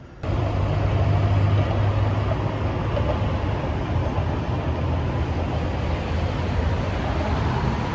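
Street traffic rises from below a Bangkok apartment in a steady, dense roar with a low rumble, like passing cars and heavier vehicles, continuous and unbroken throughout.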